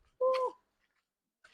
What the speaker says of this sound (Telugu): ఆ పిచ్చుకలు అయ్యో పక్షులు అరుస్తున్నాయి